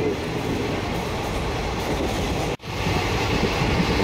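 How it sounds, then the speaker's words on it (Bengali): Maa Tara Express train running through Birbhum countryside, heard as a steady loud rumble with rolling wheel noise, briefly cut off once. "নিজের গতিতে ট্রেন ছুটে চলছে"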